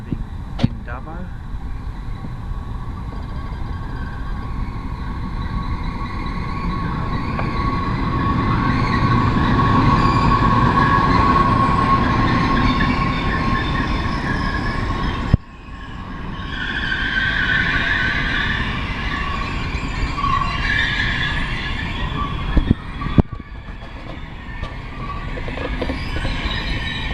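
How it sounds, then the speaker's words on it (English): Sydney to Dubbo train arriving at Dubbo station, a loud continuous rumble and rolling wheel noise that swells and fades over nearly half a minute, with brief clunks and a voice speaking underneath. "The expertise Sydney to Dubbo is now arriving in Dubbo."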